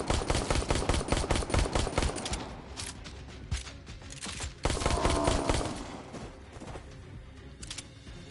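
Rapid gunfire from the Ark Park PSVR video game, loud bursts of close automatic shots in quick rhythm, then a pause and a second, sparser volley fading out.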